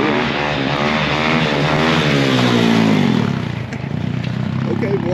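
A Kawasaki 450 dirt bike engine roars past, revving loud and rising, then falling in pitch as it rides by and fades into a steadier drone.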